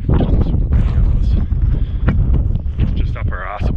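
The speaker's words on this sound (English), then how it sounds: "try and get out of this wind." Strong gusts of wind buffet the microphone on an exposed mountain ridge near Kaweka J, roaring continuously and close while a person talks over it.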